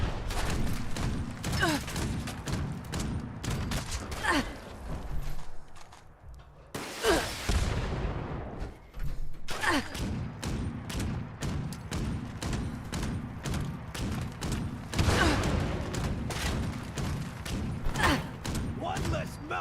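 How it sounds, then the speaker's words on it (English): Missile launcher fire and explosions in Fallout 76 roll out as a rapid barrage of loud booms and thuds, with one big blast near the middle and constant gunfire throughout. "Oh, somebody's got a missile launcher."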